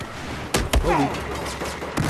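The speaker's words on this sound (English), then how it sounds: "Who the fuck was shooting me?" Gunfire in Battlefield 4 on the Operation Locker map in Rush mode, two sharp close shots in quick succession, then a lull and one more shot, with a faint voice in the background.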